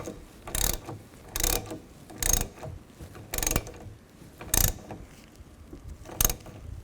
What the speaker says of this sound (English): tighten the nut down